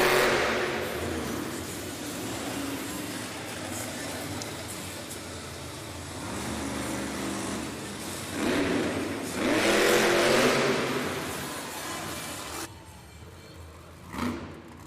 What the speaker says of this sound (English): Logan Ashline Sparkle Smash with a popper off the log stack for attempt number 1